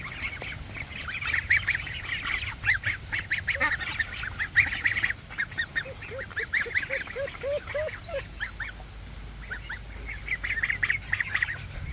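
Ducklings in a backyard garden quack and peep repeatedly while being fed lettuce, a busy overlapping chorus of short calls close by, with a soft background hum.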